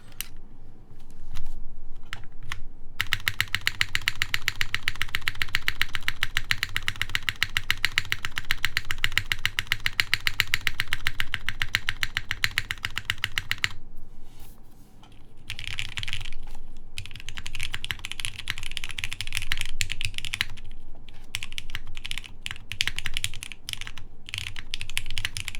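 Typing on a custom Monokei x TGR 910 v2 mechanical keyboard fitted with a GMK spacebar, a dense run of close, crisp keystroke clacks with a few brief pauses, heard alone without talk.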